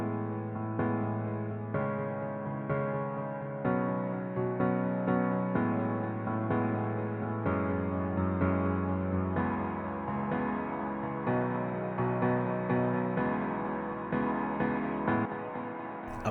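Piano chords in a progressive trance remix, drenched in a dark, long Valhalla Shimmer reverb tail with Echoboy delay: sustained harmonic chords change every couple of seconds, smooth and steady, with no voices.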